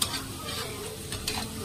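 Red chili powder and turmeric sauté in a cast-iron pan, a soft close sizzle with brief scraping stirs from a spatula, steady and short with no voices.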